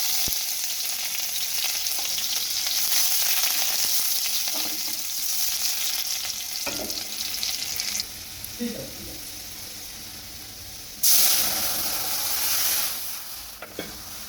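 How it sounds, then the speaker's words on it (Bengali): Panch phoron and onion sizzle and crackle in hot oil as dal is tempered, a steady loud frying hiss with stirring clinks, a brief drop midway then a fresh burst of sizzle. "ডাল ফোড়ন দেবো, তার জন্য 5 ফোড়ন আর একটু পেঁয়াজ।"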